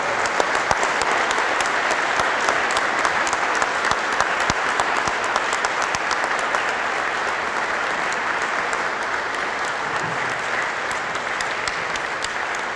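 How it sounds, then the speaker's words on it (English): A standing audience gives sustained, steady applause to honored WWII veterans at a Pillars of Honor traveling WWII memorial event. The dense clapping continues evenly throughout, with no talk over it. "Can everybody please stand and give our honored heroes a round of applause?"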